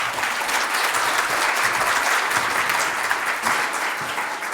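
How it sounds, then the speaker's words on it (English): Audience at a dementia-care technology conference session applauding at its close, an even, continuous wash of many hands clapping for several seconds with no talk. "So I started clapping because we have arrived at the end of this session"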